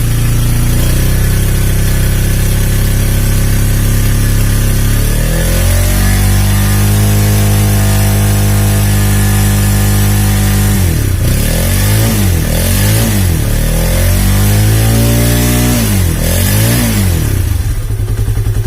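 A Honda CB150R motorcycle with a starting and battery-charging fault idles loudly and steadily up close, then the throttle is blipped repeatedly, each rev climbing slowly before dropping back to idle.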